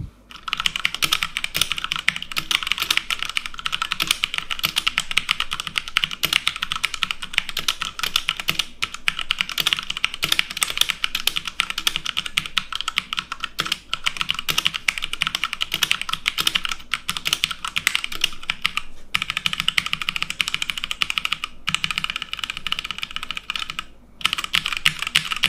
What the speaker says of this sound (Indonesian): mendingan kita typing test dulu deh.